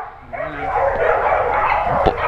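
A dog barks and yips close by, a series of short excited barks with whimpering tones, heard over people talking in the background.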